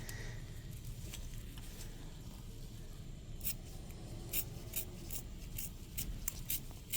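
Suture scissors snip during hands-on work on a Chrysler vehicle under recall, giving a series of small, sharp clicks that grow more frequent toward the end over a low, steady background hum.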